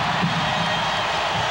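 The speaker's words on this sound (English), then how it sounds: "And again, the crowd comes to life." Sustained roar of a packed basketball arena crowd at the 1994 NBA Finals between the Houston Rockets and New York Knicks, a dense, loud wash of cheering with no single voice standing out.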